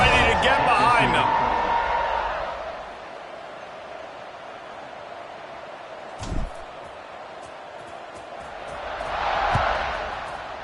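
A stadium crowd in the video game College Football 26 roars loudly and then settles to a steady distant rumble, swelling again toward the end, with a single thud partway through.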